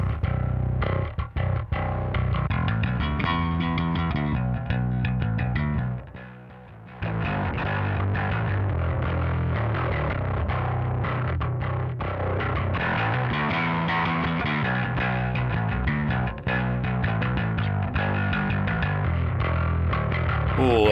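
A heavily distorted bass guitar played through a Mosky Third Space bass amp with Vintage Rat distortion, a gritty, sustained riff with continuous notes and a brief dip in the middle, loud and up close.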